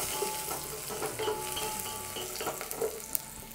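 Garlic frying in hot oil just after mustard seeds have popped, a steady close sizzle with scattered crackles and light pops across a few seconds.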